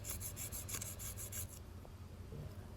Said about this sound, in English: Now we'll go over it with some 320 sandpaper.